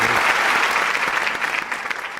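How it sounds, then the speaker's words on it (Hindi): Studio audience applause for host Mohsin Abbas on a talk show, a dense, steady burst of many hands clapping that fills the whole moment and thins slightly toward the end. "मोहसिन के लिए तालियां।"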